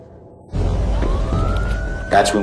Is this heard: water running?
no